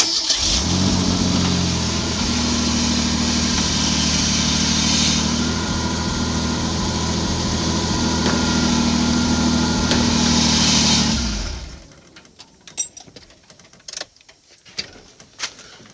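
A 1988 Ford Ranger engine idles loud and close with a steady, even rumble for about eleven seconds, then shuts off, leaving a few quiet clanks and knocks.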